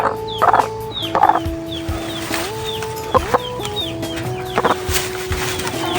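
A Rhode Island hen clucks close by in a backyard coop, giving repeated short, throaty clucks in uneven bursts. Softer clucks from other chickens sound steadily underneath.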